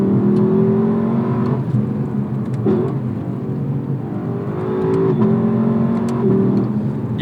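A 2018 Lexus LC500 in Sport Plus mode, its engine revving steadily and rising through gears with audible shift breaks, loud and close throughout with no talking.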